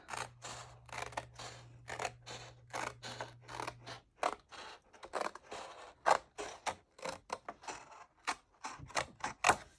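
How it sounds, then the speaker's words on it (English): Scissors cut card or paper along score lines in a long run of crisp, rhythmic snips, close and fairly quiet, with a faint steady hum under the first few seconds and no talk. "I'm going to go ahead and cut on my score lines at this line right down here."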